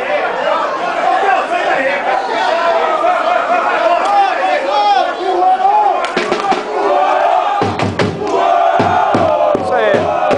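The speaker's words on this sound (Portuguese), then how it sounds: "Princípio de briga aqui na torcida." Football fans in the stands roaring and shouting loudly as a scuffle breaks out, a dense crowd din with sharp bangs and slams cutting through near the end.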